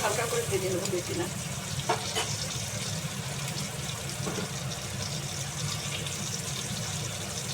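Eggs seasoned with salt and turmeric fry lightly in oil in a wok, giving a steady close sizzle throughout with a few scraping stirs and clinks, and no talk over the crackle.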